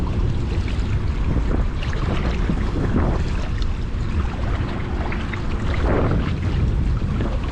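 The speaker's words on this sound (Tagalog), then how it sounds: "Hangin oh." Constant wind roars across a fishing boat on open water, a loud unbroken rush with low rumbling and no speech.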